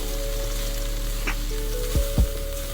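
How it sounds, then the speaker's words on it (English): Garlic sizzles steadily in a hot pan while it browns, a constant close frying hiss with a couple of brief utensil knocks near the end. "Let that garlic brown."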